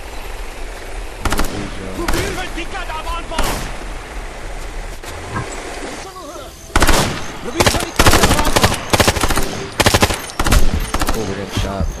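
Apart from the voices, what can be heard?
gunfire shooting at players in the video game Ghost Recon Future Soldier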